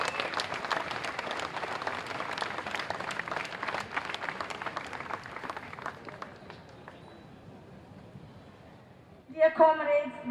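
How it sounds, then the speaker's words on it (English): A crowd at an outdoor rally for the Walk for Truth applauds a speaker with loud, dense clapping that gradually fades over several seconds before a voice begins speaking at the end. "A big round of applause for Rathy."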